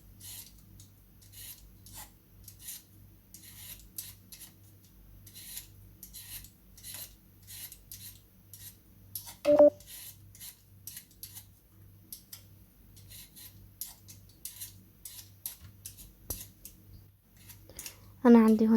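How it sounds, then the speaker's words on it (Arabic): Potatoes being peeled with a hand peeler for frying, giving a steady run of short scraping strokes, close and fairly quiet, with a couple of brief louder knocks in between. "هلا بدنا نبشر البطاطا"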